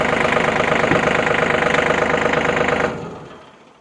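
A tractor engine idles loudly and steadily with a rough, pulsing knock, then cuts off and its rumble dies away over the last second.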